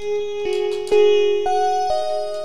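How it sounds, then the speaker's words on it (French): Synthesized MIDI notes play in REAPER: a few sustained tones step from pitch to pitch, each struck cleanly, while a long reverb tail rings on and blurs the short notes into one another. "les notes, elles sont pas si longues que ça, ce que vous entendez, c'est la reverb"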